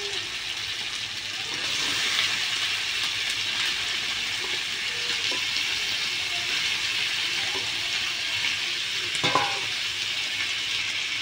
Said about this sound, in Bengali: এবার দিয়ে দেবো চিকেন।